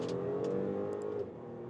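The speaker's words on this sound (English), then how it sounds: "That was 50 to 100 kilometers an hour with the V6 driving the all-new Audi A6" Inside an all-new Audi A6 Avant with a 3-liter V6, the engine pulls hard from 50 to 100 km/h as a faint, smooth rising drone that eases off near the end.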